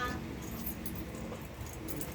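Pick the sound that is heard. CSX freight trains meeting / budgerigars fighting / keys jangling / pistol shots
keys jangling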